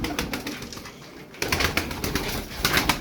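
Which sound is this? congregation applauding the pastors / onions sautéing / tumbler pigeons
tumbler pigeons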